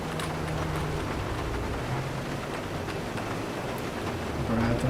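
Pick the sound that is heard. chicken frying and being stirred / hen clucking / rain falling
rain falling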